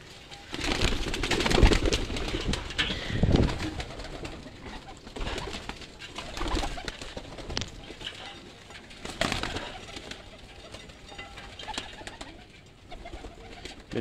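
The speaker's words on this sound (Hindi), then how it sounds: "ये माशाल्लाह भाई जान मेरा कबूतर है मेन।" Several pigeons coo in low, rolling calls close by, with occasional wing flaps and bursts of movement breaking through the steady cooing.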